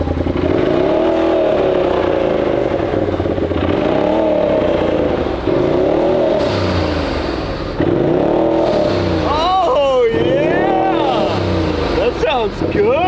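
A turbocharged UTV engine with carbon-tipped exhaust revs repeatedly in surging, rising and falling pulls, fairly loud and close, with people talking in between.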